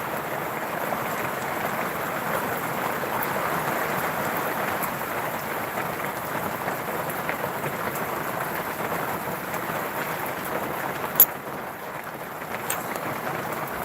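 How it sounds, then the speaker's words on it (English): Steady rain of large raindrops falling on a surface outdoors, an even broadband patter holding throughout at moderate level, with one sharp tick near the end. "It's just normal raindrops, mate."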